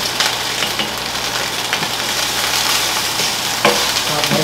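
Fried rice sizzles and crackles in a pan, with occasional stirring scrapes and a low hum underneath, close and steady.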